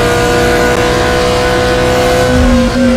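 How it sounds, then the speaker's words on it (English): BMW M3 GTR race car in NFS Carbon at full throttle, its engine droning steadily and loud with a sequential-gearbox quick shift lowering the pitch near the end, no talk. "As you see on the upshifting, you can stay fully on the throttle with sequential gearbox."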